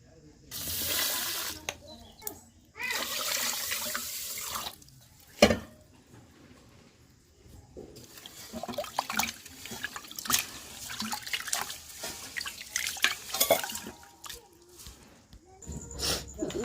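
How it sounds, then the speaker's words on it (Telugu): Water is poured over rice in a pot to wash it, giving two splashy, rushing bursts in the first few seconds, followed by quieter stirring, clinking and swishing in a kitchen. "బియ్యం అయితే వాడుతు రెండు మూడు సార్లు గడిగేసి ఇంకా ఇసురు వాటర్ అయితే పోస్తున్నాను"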